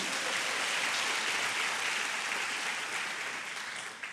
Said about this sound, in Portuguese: Se você crê na sua oração, aplauda bem forte o nome de Jesus